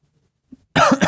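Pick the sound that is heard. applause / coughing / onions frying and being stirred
coughing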